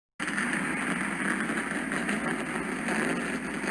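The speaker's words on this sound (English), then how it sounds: "Engines are fired" Several race car engines fire up together for the Last Chance Qualifier at the Combination 200 in Orlando, a steady dense roar that sets in abruptly after a brief silence and holds loud with no talk over it.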